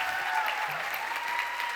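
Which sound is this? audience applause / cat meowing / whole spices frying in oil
audience applause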